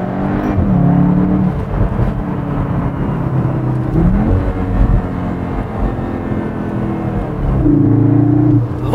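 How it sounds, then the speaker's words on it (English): Cupra Formentor engine in Cupra mode accelerating hard, a loud droning induction roar that rises in pitch through several gear pulls, dipping briefly at each shift, heard from inside the car without talk. "Love the induction noise on it."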